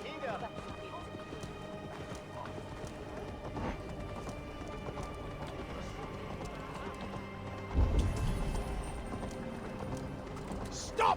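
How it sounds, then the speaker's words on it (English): Horse hooves gallop in a Viking-era video game world, a rhythmic clip-clop running steadily under game music and ambience, with a heavier impact near the end. "Stop that horse!"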